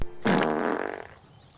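A loud, drawn-out fart sound effect in the Dudley Do-Right kids' movie, starting after a short quiet gap and trailing off over about a second, with no talk over it.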